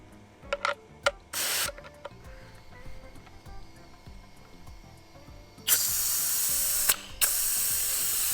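A compressed-air vacuum brake bleeder, used while replacing a brake caliper, clicks several times and gives short hisses. It then runs with a loud steady close hiss that briefly cuts out and starts again.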